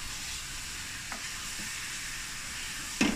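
Fried tinda is stirred into masala in a pan, with a constant close sizzle, a few soft spoon scrapes and a sharper clink near the end.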